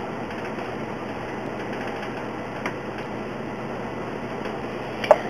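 A sewing machine sews a satin stitch on a raw-edge appliqué, a steady close whir with faint ticking throughout and a small click near the end.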